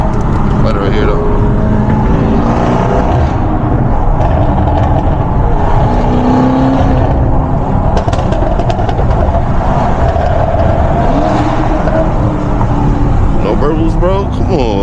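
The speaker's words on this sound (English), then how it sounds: "Sometimes you just want to hear the V8 too." A BMW M550i V8 drives across a bridge with a loud, constant engine roar and road noise from inside the car, while people talk over it.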